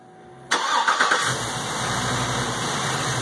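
A car engine cranks and catches after a short pause, a quick burst of revving, then settling into a steady idle, close and loud, with no voices.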